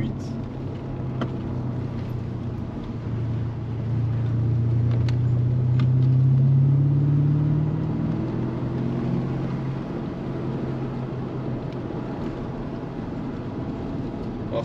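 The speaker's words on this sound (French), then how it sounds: "On vous laisse apprécier le doux son du V8." A BMW M5 with a V8 engine being driven, its deep engine rumble swelling louder mid-drive and then settling back into a steady drone.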